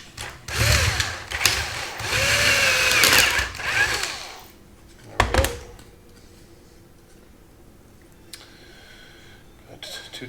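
Power drill boring holes with a big bit for a Rock 'em Sock 'em Robots toy hack, two loud close bursts of whirring and grinding, then a brief spurt before quieter handling noise.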